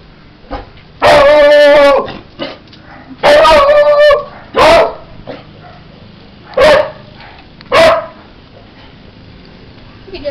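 A dog barks loudly in five separate bursts, the first two long and strung together and the last ones short and sharp, with quieter whimpers between them.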